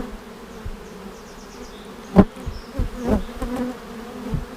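Bees buzzing steadily around an open comb honey hive during hive inspection, a continuous close drone with a few sharper thumps and knocks from handling the frames.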